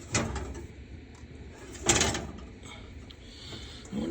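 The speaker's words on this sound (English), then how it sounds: "All this luscious chocolatey goodness going into the oven." An oven door swings shut on a 13 by 9 pan of Cap'n Crunch brownie batter, giving two soft, muffled clunks, a brief one at the start and a firmer one midway, in a quiet kitchen.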